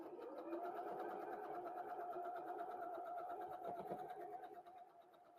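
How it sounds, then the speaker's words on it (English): A Janome 3160 QDC sewing machine runs in a steady fast whir with rapid needle ticking, fairly quiet and close, slowing and stopping near the end. "today I'm sewing on the Janome 3160 QDC, great little machine"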